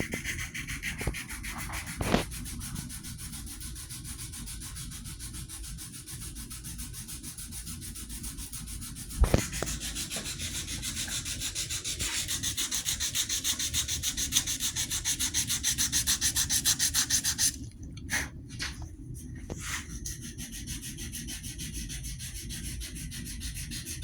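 A Norland Hudson Bay axe head is sanded with 120 grit sandpaper in long, steady, close rasping strokes, with a few sharp knocks and a brief pause near the end.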